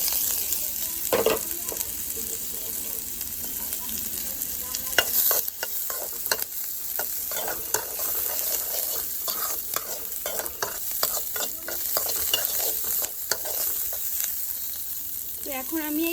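Chopped carrot and onion with a little green chili fry in a pan, a soft constant sizzle broken by frequent scraping stirs of a spatula, close and moderately quiet, with a faint voice briefly in the background.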